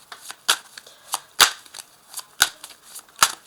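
A tarot deck being shuffled for a reading, heard close up as a series of crisp riffles and snaps in an uneven rhythm, with no voices.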